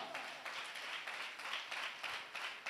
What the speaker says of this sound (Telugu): కొడి చప్పట్లు.